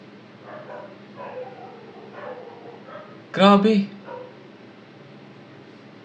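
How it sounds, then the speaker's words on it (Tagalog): A dog barks outdoors, a short loud burst of a few barks rising over ongoing conversation indoors, with people talking before and after it. "Ang ingay ng aso sa labas."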